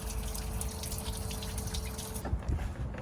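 Engine coolant pours out beneath a large Claas tractor with a Cat engine, a steady splashing gush that stops partway through and gives way to scattered drips and a few handling noises.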